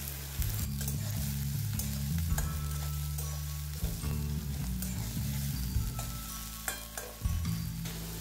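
Onions frying in mustard oil with a little salt in a pan, stirred with a utensil: a steady close sizzle with repeated scraping strokes and occasional clatter, no voices.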